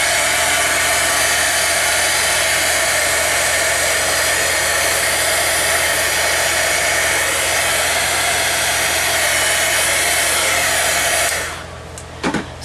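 A heat dryer blows hot air over Tim Holtz Distress inks on a steampunk dress form banner, a loud steady whir running continuously for about eleven seconds before cutting off, followed by a couple of faint clicks.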